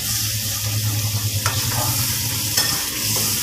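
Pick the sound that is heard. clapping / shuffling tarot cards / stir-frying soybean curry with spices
stir-frying soybean curry with spices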